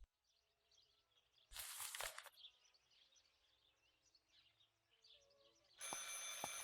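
An old telephone rings in the video game Martha Is Dead, sounding in two sharp bursts separated by quiet, faint ambience with soft birdlike chirps.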